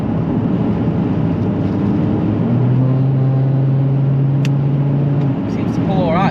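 A car fitted with a custom DPF delete downpipe accelerates, a dense engine drone with a rising tone that swells mid-way and holds, loud and close, with someone speaking over it.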